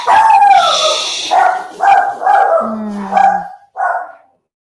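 Dogs bark indoors in a run of loud, close barks and yips, several bursts separated by brief pauses, ending with one short final bark before silence.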